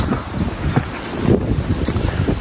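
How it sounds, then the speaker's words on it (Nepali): Steady wind blowing on a hillside in Japan rushes and buffets the microphone with brief gusts, no voices, a continuous outdoor roar. "हावा चाहिँ मस्त चलिरहेको"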